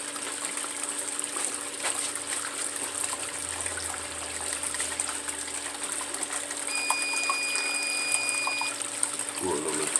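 Water pours and gushes steadily through a gold sluice box during a winter group gold cleanup dig in the Uwharrie area, a continuous close hiss and rush of flowing liquid that runs without pause for the full length.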